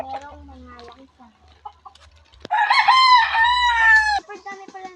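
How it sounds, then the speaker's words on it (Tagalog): Chickens cluck close by in an island yard, then a rooster lets out a loud, drawn-out crow lasting nearly two seconds before the clucking resumes; a faint low hum runs underneath. "Super dami pala ng manok mo."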